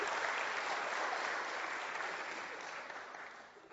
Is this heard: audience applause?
yes